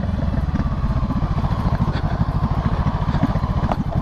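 A Honda CB 500F motorcycle, its tail and mirrors removed, chugs steadily nearby with a rapid, even low-pitched pulse and a faint mechanical clatter on top, running alone with no voices.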